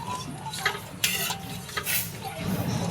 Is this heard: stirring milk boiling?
yes